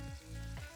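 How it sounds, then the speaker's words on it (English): Prawns sizzling in hot oil for gambas pil pil, a steady close frying hiss with a couple of brief thumps from the pan, and no voices. "So we start frying the prawns"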